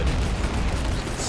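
Sniper gunshot in the video game Men of War Assault Squad 2, a British versus German battle on Falaise: one continuous loud, dense boom filling the whole moment, with no voice over it.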